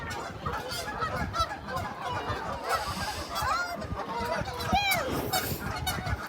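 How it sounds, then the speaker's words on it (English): A white duck honks loudly and repeatedly outdoors, several nasal calls rising over a noisy background with faint voices nearby. "Look at that white duck."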